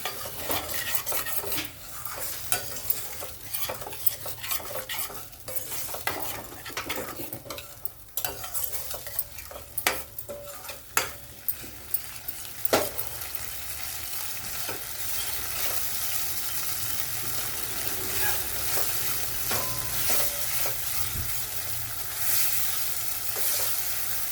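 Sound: spice masala being stirred and fried in pan

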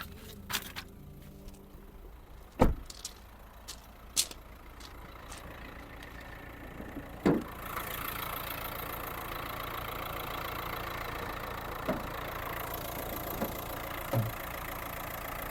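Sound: car engine idling

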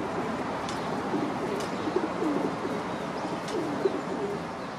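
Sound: white domestic pigeons cooing

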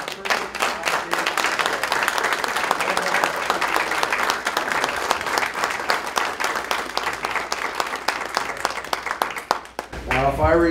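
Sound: audience applause for the first class

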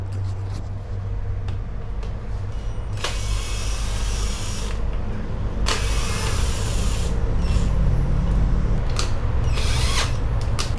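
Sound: electric hub motor running at full throttle

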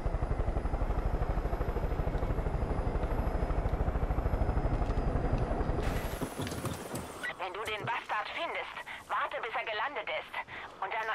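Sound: helicopter approaching in video game Far Cry 5

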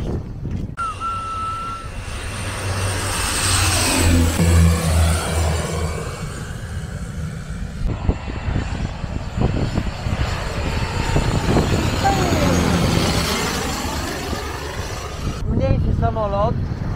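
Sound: smaller airplane flying low over Maho beach, St. Martin

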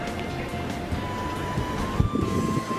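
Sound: wind blowing on a cruise ship deck by the sea

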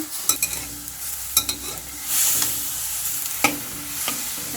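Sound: pork being poached and stirred in a pot

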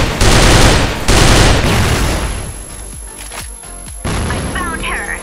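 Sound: grenade explosion in the video game Crossfire

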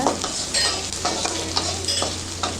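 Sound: carrots, beans and onion sautéing with salt in a pan

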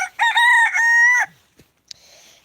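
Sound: chickens and rooster crowing

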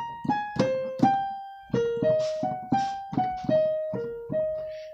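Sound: piano playing intro

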